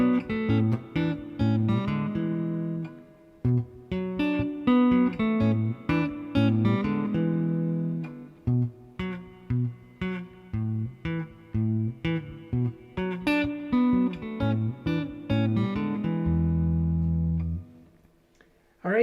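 A lone electric guitar plays the Grateful Dead's Althea rhythm part with extra notes layered in, a steady run of choppy plucked chords and bass notes, close and clear, ending on a held low note.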